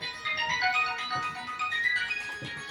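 A telephone rings steadily through a phone call, a bright repeating electronic tone with faint voices murmuring underneath.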